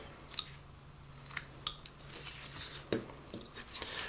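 A carving knife cuts into wood on a hand-carved caricature figure, making a few faint, sharp snips and soft scraping strokes spaced irregularly against a quiet background.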